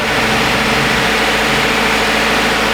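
A 2017 Subaru Outback engine warming up at idle gives a steady, loud, close mechanical drone that holds even and unbroken, with no talking.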